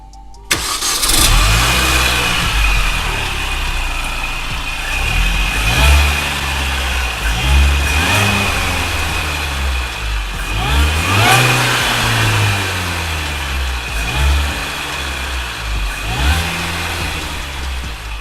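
A stock Mini Cooper R53 engine starts, then revs again and again, its loud pitch rising and falling in repeated waves over a steady idle, heard close and without talk.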